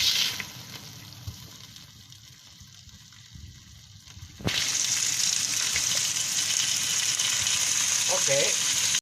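Pork tail drops into a hot pot for mung bean and vegetable stew, bursting into a loud, steady sizzle halfway through after a quieter stretch of low kitchen noise.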